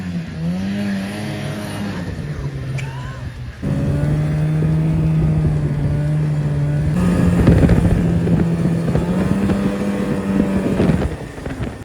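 An old snowmobile engine with a fault that keeps it from running unless the choke is wide open. It drones loudly and steadily up close, its pitch stepping up and down as the revs change.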